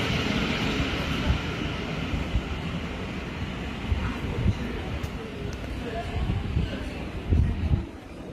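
A passenger train runs through a station on the Brighton main line, a steady rumbling roar that holds for the whole stretch with brief louder swells near the end.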